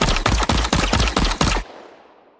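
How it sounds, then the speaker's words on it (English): Sample-accurate machine gun fire loop from a video game: six rapid, evenly spaced loud bursts followed by a decaying tail fading into silence. "an audio system which creates sample-accurate gunfire loops using MIDI calls on the Wise audio thread"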